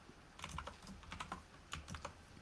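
Quiet typing on a computer keyboard used for live streaming, a run of soft irregular key clicks in loose bursts, close and alone with no talking.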